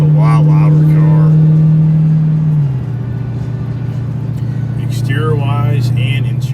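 A loud Ford Mustang engine idles with a deep, steady rumble that shifts lower partway through, with brief voices talking over it near the start and end.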